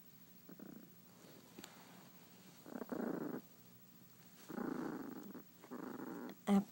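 Low, rumbling growls from a dog guarding a bone, several short bursts separated by pauses, quiet and close, ending with a brief sharper sound.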